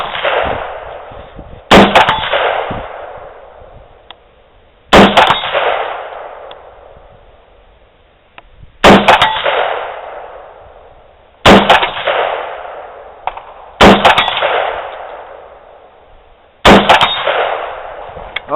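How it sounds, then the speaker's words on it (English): An AR-15 firing .223 at a steel target 100 yards away. Six sharp, loud rifle cracks come at uneven intervals, each trailing off in a long echo across open ground, with no talk. "He's going to go ahead and try to hit it at 100 yards with an AR-15."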